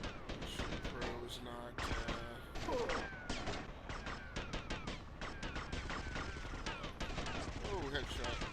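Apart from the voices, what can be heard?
gunfire in Grand Theft Auto Vice City video game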